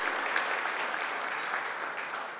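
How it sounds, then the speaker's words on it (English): A crowd applauds steadily at an annual party and leadership awards ceremony, a dense, even clapping that continues throughout and fades slightly at the end. "let's give Sherry a round of applause"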